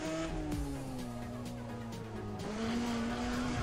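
A revving car engine and squealing tires from Need for Speed ProStreet during a drift event, the engine note climbing and shifting in pitch with a sustained screech, close and moderately loud, no talking.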